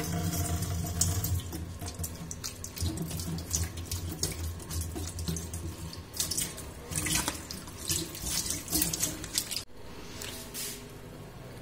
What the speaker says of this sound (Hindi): तो इस ढक्कन में पानी डालते हैं, इसे धोते हैं